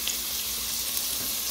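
Onion, ginger and garlic sautéing in a pan for a mung bean dish: a loud, continuous hissing sizzle close by, even and unbroken, with no voices.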